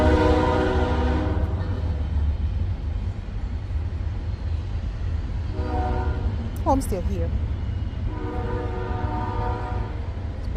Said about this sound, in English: Just wait for the train to stop screaming.